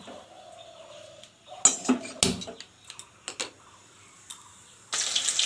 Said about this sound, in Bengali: গ্যাসটা ধরিয়ে নেব।